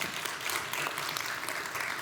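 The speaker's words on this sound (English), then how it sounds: "Let's clap if you're designers." An interior design conference audience claps steadily, a continuous dense patter of many hands at moderate distance, with no voices over it.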